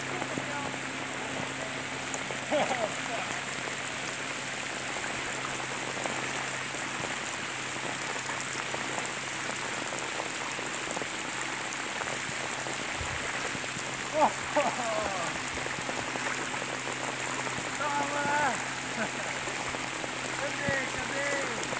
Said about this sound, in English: It's pissing down with the rain,